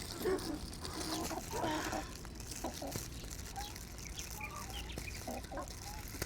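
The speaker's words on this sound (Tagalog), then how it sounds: "Ngayon naman mga kafeyo ay magpapakain tayo ng manok" Chickens gather around a keeper at feeding time, with faint clucks and scattered bird calls over a soft, steady outdoor background.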